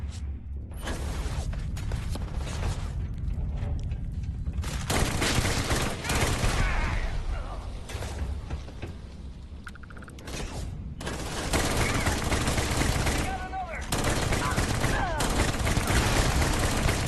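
Rockets fire point blank in a video game, with loud dense bursts of blasts and mechanical clatter that continue throughout under a few voices talking.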